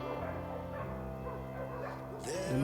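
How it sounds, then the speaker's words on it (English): Several dogs bark and yelp at a distance, overlapping and excited, with a brief louder burst near the end. "them dogs are going crazy"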